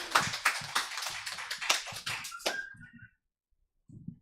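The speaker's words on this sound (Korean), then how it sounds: "환영의 박수 부탁드리겠습니다." A church congregation gives welcoming applause, a short burst of clapping from a small group lasting about two and a half seconds. Near hands fade out, a brief tone lingers, then silence and a final light tap.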